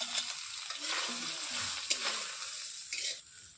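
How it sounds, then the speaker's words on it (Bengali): Boiled soya chunks rubbed with salt and turmeric sizzle steadily in hot oil in a kadai, a close continuous hiss with occasional stirring clicks. "এরপর এগুলোকে ভাজবো"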